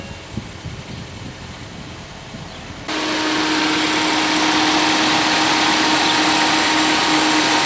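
A Ford Fiesta's engine starts and settles into a steady idle after its first oil change: quiet background at first, then an abrupt jump to a loud, constant whirring hum that holds evenly to the end.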